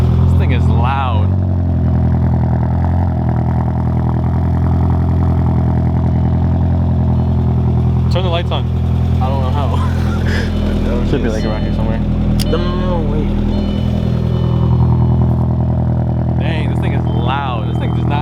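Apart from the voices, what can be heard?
Audi A4 big turbo 4-cylinder engine running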